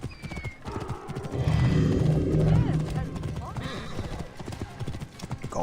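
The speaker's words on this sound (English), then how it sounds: "that poor donkey" A donkey in Assassin's Creed Origins brays loudly in a long, honking call over steady hoof clip-clops, while people talk nearby.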